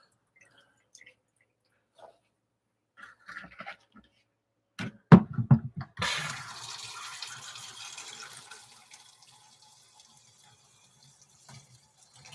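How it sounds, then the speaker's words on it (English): Water poured into a bucket, starting after a few clicks and knocks with a sudden splash, then a steady rushing fill that fades over several seconds, nearby in a quiet room. "Just putting some water in this bucket"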